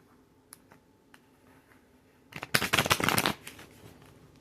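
Tarot cards riffled and shuffled in a quick burst of dense flapping, preceded by a few faint taps in a quiet room.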